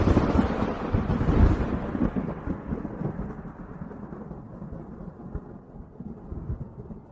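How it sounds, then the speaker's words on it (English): Steady rain pours outside while thunder rumbles loudly and rolls on, its low roar slowly fading away with no voices. "It's raining outside."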